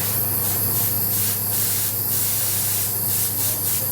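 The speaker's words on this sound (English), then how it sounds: "I'm gonna get an air hose. I'm gonna push air." An air hose pushes compressed air in a steady hiss for several seconds while clearing debris in a shop during a Mazda RX7 revival, with faint repeated scrubbing bursts over it.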